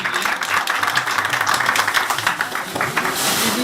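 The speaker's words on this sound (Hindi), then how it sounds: "बहुत सारी तालियां महाराज जी के लिए।" Audience applause for the Maharaj at a Hinglaj Mata temple yatra gathering: dense, steady clapping from many hands throughout, fairly loud and continuous with no talk over it.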